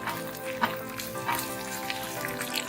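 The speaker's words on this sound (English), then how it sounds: "Now add some whole red chili and some curry leaves here in this ghee. Roast it for a while." Whole red chilies and curry leaves roasting in hot ghee give a soft, steady sizzle and crackle with small pops, faint and close, with no voices.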